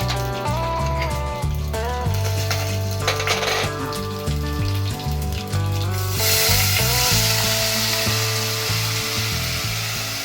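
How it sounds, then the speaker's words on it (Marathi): Field beans (val) sizzle steadily in hot oil tempered with asafoetida and curry leaves, making a loud continuous frying hiss with occasional scraping stirs and a persistent low hum underneath. "फोडणीत टाकल्यानंतर या तेलावर अशा थोड्या परतून घ्यायच्या"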